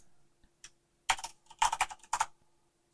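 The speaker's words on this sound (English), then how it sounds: "Then I'm gonna type out the name of the song." Typing on a computer keyboard to enter a song name, with a few light taps and then three quick bursts of clicking keystrokes, close and clear with no talk.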